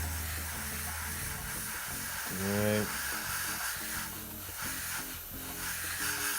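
Thinned Mission Models paint is sprayed through an airbrush onto a 1/56 M4 Sherman tank model, a soft, steady hiss running under background music while a person speaks briefly.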